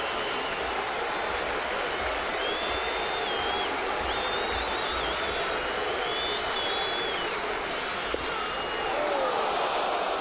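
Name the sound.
baseball stadium crowd cheering for strike three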